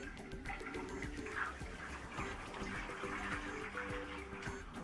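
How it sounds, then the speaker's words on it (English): A basin of water is dumped out into a sink, giving a continuous splashing, gurgling rush of liquid for several seconds at moderate level, with no talk over it. "Dump the water."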